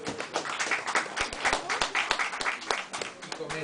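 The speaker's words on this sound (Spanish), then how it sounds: "Un aplauso para ellos" Audience at a literary and arts café evening claps for poets being welcomed to the stage, uneven sharp claps at close range with talk mixed in underneath.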